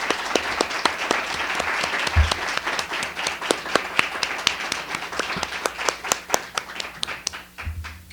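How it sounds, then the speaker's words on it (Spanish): Audience applause at a book presentation at the Guadalajara book fair, a full room of hands clapping steadily for several seconds, dense and even before gradually thinning out toward the end. "un aplauso para ella"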